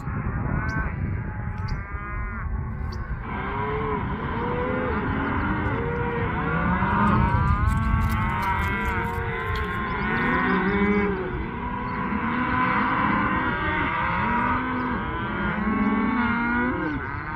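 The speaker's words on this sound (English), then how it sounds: "Cows are calling for their babies, and babies are calling for their moms." A herd of cows and calves mooing loudly and continuously, cows calling for calves and calves for mothers, many overlapping calls near and far, deep bellows mixed with higher calf-like bawls.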